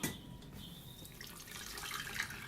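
Homemade hemp milk poured from a container, a steady close liquid stream with faint splashing and trickling throughout, no talking.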